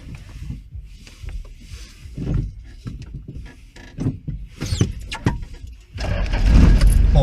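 A car goes through its starting routine: keys jangle and rattle near the ignition, then the engine turns over and settles into a loud, steady idle.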